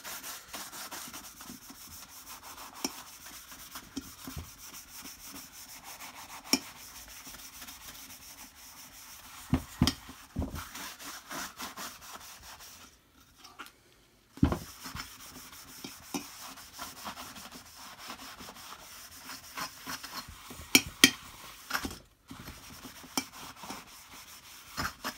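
Steady rubbing and scrubbing as dirt is cleaned off an old, dented and scratched Hoover vacuum cleaner, continuous close scraping strokes with a brief pause midway and occasional sharper knocks.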